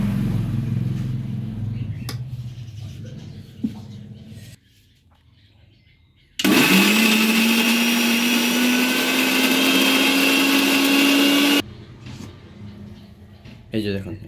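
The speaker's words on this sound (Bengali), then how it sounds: "এবারে মিক্সিং জারে এটা বেটে নেবে" A mixer grinder jar grinds fried bottle gourd leaves with chilli, cumin and nigella seeds in a loud, steady whine for about five seconds, set between stretches of quieter kitchen noise and room sound.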